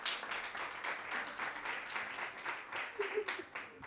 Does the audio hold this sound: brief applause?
yes